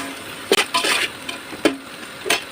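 Ground onion paste sautés in a pan with a soft hiss under a few sharp spatula scrapes and knocks against the pan, close and short.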